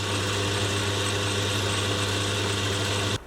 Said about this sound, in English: it'll be interesting trying to drill a tiny hole like that